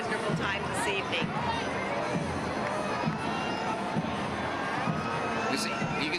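A dense parade crowd at an evening Festival of Lights cheers and shouts steadily, with children's voices and babble rising above a continuous roar, close and loud throughout.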